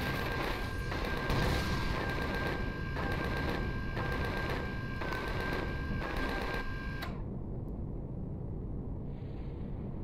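Rapid automatic turret gunfire in the space survival game Empyrion Galactic Survival, a dense unbroken stream of loud shots that cuts off abruptly near the end, leaving a quiet electronic hum.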